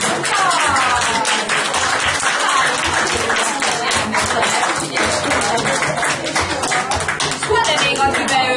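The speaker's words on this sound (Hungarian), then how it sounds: "Tapsolj meg a Bálinkot." An audience at a children's group carnival claps for a child in dense, sustained applause, with voices mixed in underneath.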